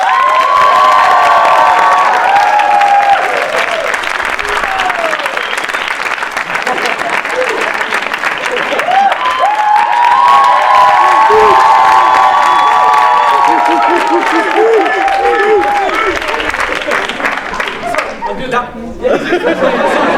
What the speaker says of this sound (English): So please can we have a massive round of applause for Akash Patel